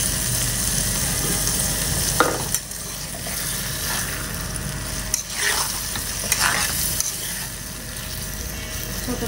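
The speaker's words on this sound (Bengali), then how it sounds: "নাড়াচাড়া দিয়ে ঢাকা দিয়ে দিই" Beef liver frying in a pan while it is stirred, a steady loud sizzle with scraping stirs and occasional sharper clatters of the utensil, no voices.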